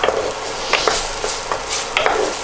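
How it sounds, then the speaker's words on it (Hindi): Potatoes are stirred in sizzling butter in a pan, giving a steady bright frying hiss with soft scraping stirs every half second or so, close and fairly loud. "इसको अच्छे से हिला दीजिए ताकि इसमें सारी बटर की कोटिंग पोटैटोस पर लग जाए।"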